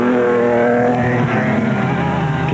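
Loud, continuous on-board engine roar from the Castrol Toyota Land Cruiser rally car, driven by Reiniger and Houghton with a standard 5-speed gearbox, racing in the Caledon 400 in 2001; steady drone with rising and falling revs throughout.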